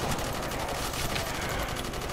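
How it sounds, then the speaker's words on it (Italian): Rapid machine gun fire rattles without pause through a custom campground zombies survival mode in a shooter game, dense and loud across the whole stretch with no talking. "Sì, si spara a cazzo."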